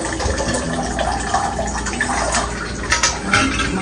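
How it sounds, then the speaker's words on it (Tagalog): Water running from a tap into containers during a refill, a loud close continuous gushing splash with slight swells and gurgles, no voices over it. "nag-refill naman ako ng tubig"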